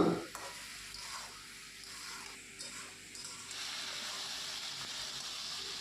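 Turmeric is stirred into a hilsa fish curry in a pan, giving soft scraping strokes over a quiet, steady sizzle that grows slightly louder toward the end.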